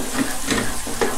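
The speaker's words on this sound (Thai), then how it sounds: "โอเคน้ำมันเราร้อนแล้วใส่กระเทียมลงไปเลยครับ" Minced garlic hits hot oil in a wok and sizzles in a steady frying hiss, with a few bursts of stirring, close and fairly loud, for a Chinese-style dry-fried fish maw stir-fry.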